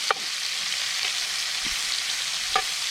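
Sweet onion frying in a pan at a campsite breakfast, a close, steady broadband sizzle with a few faint clicks of stirring, no talk.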